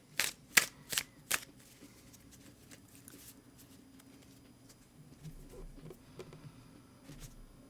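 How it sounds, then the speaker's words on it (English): A deck of tarot cards is shuffled close by, with four crisp riffle bursts at the start, then quieter soft shuffling and card handling in a hushed room. "I'm going to go ahead and shuffle the cards"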